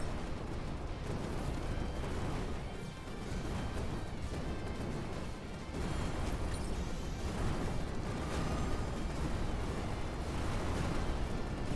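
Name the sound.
explosions in a video game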